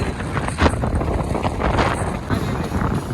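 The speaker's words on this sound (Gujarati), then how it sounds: "પવન બહુ આવે છે" Strong wind blows at Madhavpur beach, roaring and buffeting the microphone in a continuous loud rush with gusty surges throughout.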